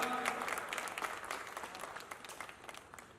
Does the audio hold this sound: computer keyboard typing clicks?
no